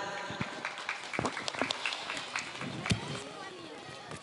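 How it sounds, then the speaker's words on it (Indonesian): Scattered applause at a junior and senior high school graduation ceremony, irregular individual claps and small bursts under a murmur of voices in a hall, moderately close. "Tepuk tangan dulu."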